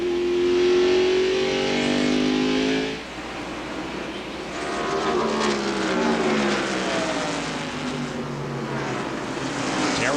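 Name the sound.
race cars at the 1995 Tyson Holly Farms 400 NASCAR race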